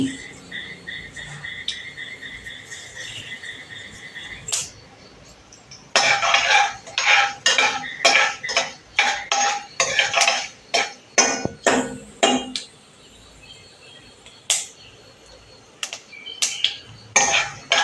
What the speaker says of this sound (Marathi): एवढ्या छान आपली मोहरी तडतडली